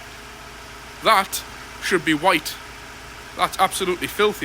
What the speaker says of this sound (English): You'll have to excuse the noise of the engine.